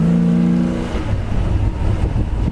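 Engine of a red 1965 Chevy Chevelle convertible, opening on a steady idle hum, then revving up into a loud, throaty, rising roar heard up close with no talking.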